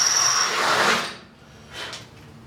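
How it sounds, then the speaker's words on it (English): A power drill whirs loudly for about a second as it bites into material, then winds down, followed by a brief second burst. "Drilling holes!"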